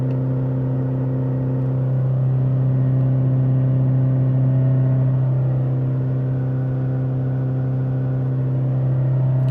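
A Volvo V50 1.6 diesel held at a steady 4,000 RPM with no pedal input during particulate filter regeneration, giving a loud, constant engine drone with a strong low hum that stays level throughout.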